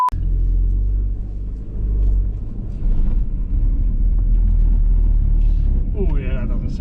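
A wrecked Audi TT Black Edition drives on a flat tyre, its interior filled with a loud, low rumble and road drone, with a voice speaking briefly near the end.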